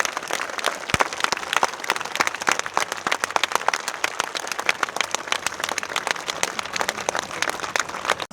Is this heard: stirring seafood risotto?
no